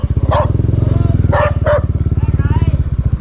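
A dog barking on a farm, a few sharp barks close by, heard over a loud, rhythmic, chugging engine throb, with someone speaking in between.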